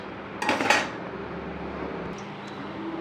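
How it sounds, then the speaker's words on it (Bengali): Dried lentil bori dumplings are stirred in a dry pan, a short burst of clattering and scraping against the metal near the start, then quieter, faint scraping and low background hum. "বড়িটা শুকনো খোলায় নেড়ে নিচ্ছি"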